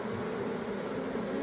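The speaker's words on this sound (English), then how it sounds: "I have no idea where all these bees came from" Bees that have turned up around a comb in a wall corner buzz in a steady, close drone, a continuous hum with no voices over it.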